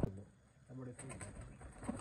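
Pigeons of a Sialkoti flock coo faintly on a rooftop, a few low murmuring coos set against quiet background noise and soft voices.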